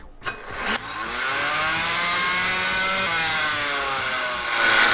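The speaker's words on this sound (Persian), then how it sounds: "اره برقی" A repaired electric chainsaw runs steadily at high speed under final testing, a loud continuous whine with rising harmonics after a couple of brief start bursts, then a slight surge near the end.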